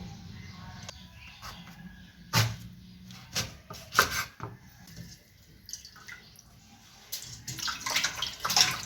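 Cut green jackfruit pieces being washed by hand in a bowl of turmeric water, with intermittent splashing, sloshing and dripping, several louder splashes in bursts over a quiet background.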